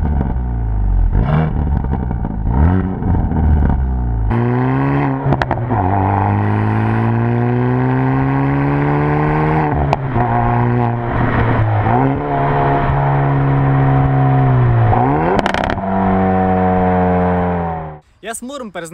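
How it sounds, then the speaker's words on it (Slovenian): A 2019 Hyundai i30N with twin exhausts revs loudly close by, engine rising and holding in sustained bursts with sharp crackles and pops, a brief pause near the end, and talk over parts of it. "ta dva izpuha, ki proizvajata res eno hudo simfonijo"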